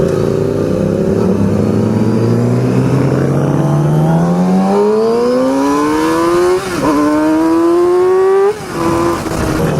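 A Yamaha R6 600cc sport motorcycle engine revs hard at half throttle through rising gear pulls, with its pitch climbing steadily and then dipping at two shifts, loud and close.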